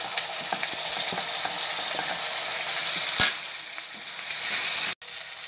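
Masala cooked with ginger, garlic and onion paste fries in a pan for chana chhole, giving a loud, steady sizzle throughout. Faint stirring scrapes run under it, with one sharp clank near the end.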